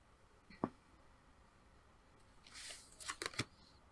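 Oracle cards being shuffled and handled: a soft tap, then a riffling flurry of card shuffling followed by a few crisp snaps, close-up and fairly quiet.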